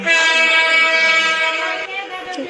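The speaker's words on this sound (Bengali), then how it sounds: "তো আমরা ট্রেনটা বাড়াই দিলাম, ট্রেনটা জোরে জোরে সামনে যাবে" A steady, loud train rumble with strong sustained tonal bands, like a horn or wheel whine, fading slightly near the end.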